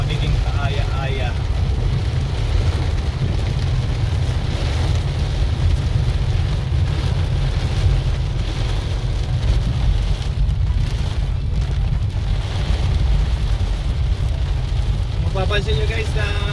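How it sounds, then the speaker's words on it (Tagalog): Heavy rain pours steadily during the rainy season in Bulacan, a dense, continuous hiss and wash heard close throughout, with a low rumble underneath and faint voices in the background. "Ayan, panay kong ulan na ngayon guys"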